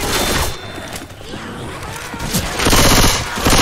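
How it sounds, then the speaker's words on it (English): Rapid gunfire bursts in the zombie shooter Left 4 Dead 2, loud and dense, with sustained volleys building toward the end of a chaotic firefight. "We're all trying to shoot."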